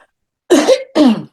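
Two loud, close coughs in quick succession, rough and throaty.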